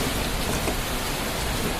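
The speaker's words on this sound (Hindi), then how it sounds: "बरसती बारिश और ये हसीन मनाज़िर आपके लिए हैं।" Steady rain falls in Faisal Town park in Islamabad, a dense, even hiss of drops hitting the ground that stays constant throughout.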